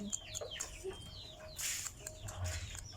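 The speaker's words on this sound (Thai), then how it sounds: "ไก่" Chickens cluck in short, scattered calls close by, several quick bursts over a quiet rustling background.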